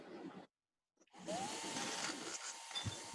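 A power drill whirs steadily into pelvic bone in a bone lab, starting after a short silence and running continuously at close range with a rising whine at the start.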